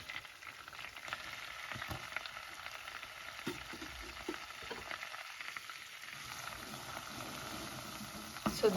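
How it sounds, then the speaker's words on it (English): Butter and plain flour cooking together into a roux for a lasagne white sauce, giving a soft, steady sizzle with occasional stirring scrapes, close and fairly quiet throughout. "So where you cook the flour in butter."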